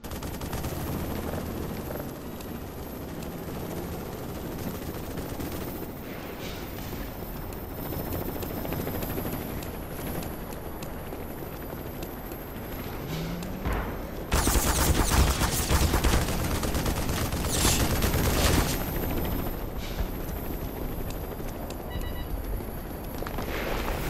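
Apache helicopter machine gun fire in the video game Black Mesa, rapid bursts of gunfire over a constant rotor drone, growing louder and denser partway through.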